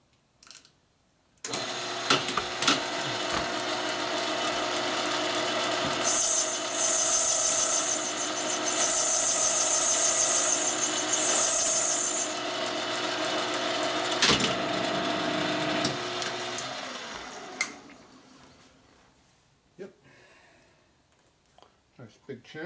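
A worker files a chamfer on a transmission part from a 1961 Harley-Davidson Sportster XLCH, producing a steady, continuous rasping drone that runs for most of the stretch, briefly brightening in the middle, before fading to quiet.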